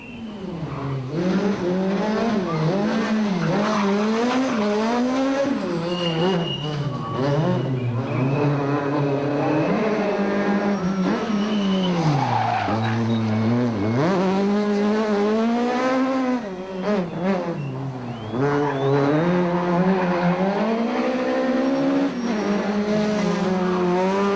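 From inside a rally car at the 2005 Volkswagen Rally, the engine revs hard and sweeps up and down through the gears almost without pause as the car drives at speed. The engine is loud and close, with no talking.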